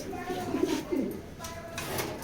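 A large male racing pigeon in a loft gives a couple of close cooing phrases, rolling and throaty, with soft background noise between them.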